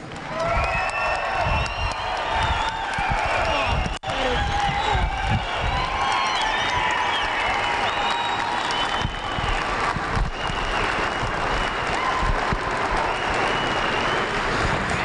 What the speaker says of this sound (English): as loud as you possibly can, please put your hands together and congratulate these young people